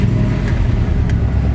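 A car exhaust idling or running steadily close by, a continuous low rumble that stays even throughout with no speech over it.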